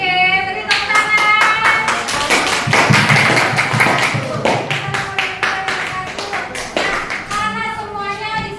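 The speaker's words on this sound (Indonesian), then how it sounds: "Oke, beri tepuk tangan." Classroom clapping from students after a presentation on using gadgets wisely, a steady patter of hand claps lasting several seconds with children's voices chattering underneath.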